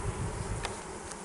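Honeybees hum in a dense, steady drone close by in an open Layens hive built with natural comb, with a brief scrape of frame handling partway through.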